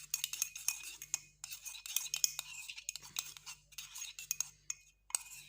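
A spoon stirs a small mixture of ground cinnamon with clinking, scraping strokes in quick, uneven bursts, close and fairly quiet, alone.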